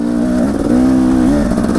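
A Husqvarna 300 TE 2016 enduro motorcycle engine revs loud and close, its buzzing two-stroke tone rising and falling in quick surges.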